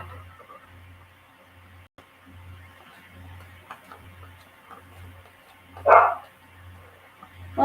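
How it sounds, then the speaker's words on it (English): Indoors, a dog barks from another room, two muffled sharp barks, one near the end, over a steady ticking clock and faint room noise. "Why are you in that room barking?"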